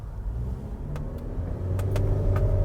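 An MG Hector Plus with a DCT gearbox accelerates from about 10 km/h as the pedal is pressed, its engine hum swelling steadily louder from inside the cabin with a few light clicks.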